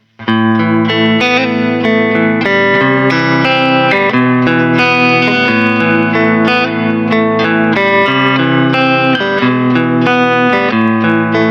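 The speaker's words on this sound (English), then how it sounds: "Let's just listen to the amp by itself with no additional effects." A distorted electric guitar through a Mixwave Milkman Creamer amp simulator plugin with no added effects plays sustained chords and riffs continuously, loud and close, with no other sounds or voices.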